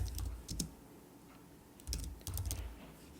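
Quiet clicking keystrokes come from a computer keyboard while text is entered into the VS Code command palette, two short bursts of close typing separated by a pause, with no talking.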